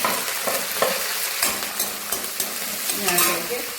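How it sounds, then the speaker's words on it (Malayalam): Curry leaves, ginger and green chilli frying in hot oil for an ambazhanga (hog plum) pickle, a steady close sizzle with crackling pops and occasional stirring scrapes throughout. "ചെറുതായിട്ട് അരിഞ്ഞ് വെച്ചേക്കുന്ന ഇഞ്ചി ഇട്ട് കൊടുക്കാം ഇഞ്ചി പച്ചമുളക് ഇടാം"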